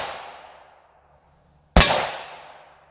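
Two sharp, loud metallic impacts from 5.56 AR-15 rounds fired from a 20-inch barrel strike a Level III+ body armor plate outdoors. Each crack rings and fades, the second much louder than the first, with no voices.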